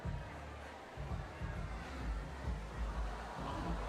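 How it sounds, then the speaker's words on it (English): A basketball crowd at an outdoor 3x3 tournament in Shenzhen lets out a broad, sustained moan after a foul, a dense steady roar of many voices that swells slightly toward the end, with rain falling on the venue. "you hear the moan from the crowd"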